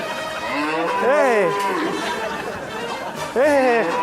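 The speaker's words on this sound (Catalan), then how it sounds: "això és un bou més gran que un Seat Panda" Two drawn-out moos from a large bull, one early and another near the end, sound over a bed of people chattering nearby.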